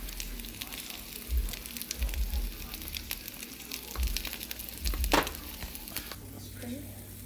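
Flipped Spam frying in a pan for a breakfast sandwich, with a soft, crackling sizzle and low bumps of handling heard under quiet background sound.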